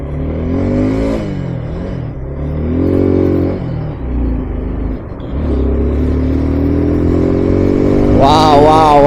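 A superbike is ridden in Saudi Arabia, its engine loud and close as it rumbles, revs and pulls through shifts, with a brief shout of voice at the end.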